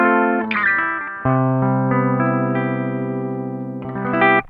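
A Gibson ES-335 electric guitar played clean through a bypassed VOX Valvenergy Cutting Edge pedal into a Koch Pedaltone preamp, ringing chords and a few strummed notes, close and alone.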